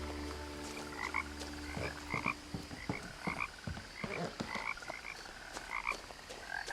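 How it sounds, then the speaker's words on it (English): Many frogs croak in the game What Remains of Edith Finch, a dense chorus of repeated throaty calls overlapping at close and middle distance over a low steady ambient hum. "So there's a lot of frogs."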